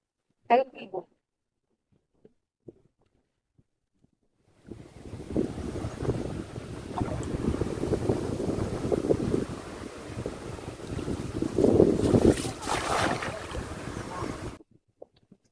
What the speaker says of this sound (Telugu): గాలి ఎక్కువ అయిపోయింది ఈరోజు